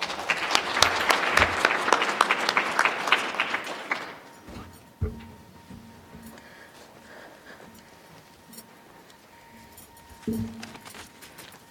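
An audience applauds loudly to welcome a panel moderator at a Smithsonian event. The dense clapping lasts about four seconds and then fades into quiet room noise with a few thumps and small clicks.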